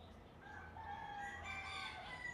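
A rooster crowing somewhere in the distance, one drawn-out faint crow over a steady soft background hiss.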